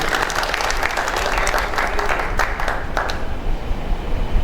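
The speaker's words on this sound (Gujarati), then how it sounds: "એમના માટે એક તાળીઓ કરી નાખો" Audience applause after a speech at a night-time lecture event, a steady wash of clapping from a crowd that fills the whole moment and thins out near the end.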